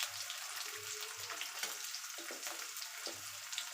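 Green chillies fry in a pan, giving a continuous faint sizzle with a few soft stirring scrapes, close and alone with no voices.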